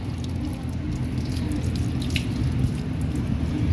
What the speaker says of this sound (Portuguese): Eu vou jogar um pouco de água aqui.